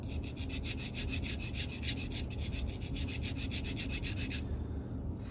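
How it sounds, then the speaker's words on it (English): Sandpaper is rubbed over the body of a 1992 Mustang in rapid, regular back-and-forth strokes, close and steady, until the scraping stops just before the end; no one speaks. "file and smooth it up with some sandpaper and follow it up by a green scuff pad."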